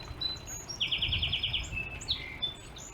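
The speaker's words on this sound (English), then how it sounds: "Oh, I love the sound of the birds." Birds sing in a small backyard garden in Canada in mid-July, a quick run of bright repeated chirps in the middle and a few scattered calls around it, faint against a low background murmur.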